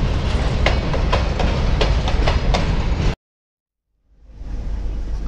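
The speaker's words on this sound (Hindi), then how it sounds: "अभी हमारी ट्रेन बंडेल स्टेशन में पहुँच गई है, और ये अभी राइट टाइम में चल रही है ट्रेन" A passenger train rolls along on the approach to Bandel station, wheels clattering steadily in a close, loud interior rumble that cuts off abruptly, then fades back in after a brief silence.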